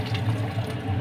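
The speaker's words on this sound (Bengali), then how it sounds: "এখন দিয়ে দেওয়া হবে পানি।" Water pours into a pot of rice seasoned with saffron and salt for rose bukhari, giving a steady, close splashing flow over a low hum for about a second, with no voices.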